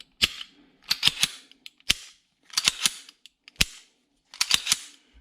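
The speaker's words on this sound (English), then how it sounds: "So now, no magazine in the weapon, you can fire it." Zastava M57 pistol, a Tokarev-pattern handgun, dry-fired with its magazine removed. About a dozen sharp, loud mechanical clicks and snaps come in small bunches of two or three with short pauses between them, close by and with no voices.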